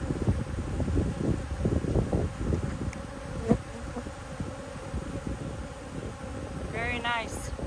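Honey bees from a newly installed nuc hive buzz steadily and close throughout, a dense droning swarm with a sharp tap midway and a voice briefly speaking near the end.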